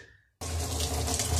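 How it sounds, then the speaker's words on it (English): Water gushes from a tap into a plastic drum for a hot water rocket stove, starting abruptly after a brief quiet moment and running as a steady, close, full splashing rush. "I can start filling this thing with water."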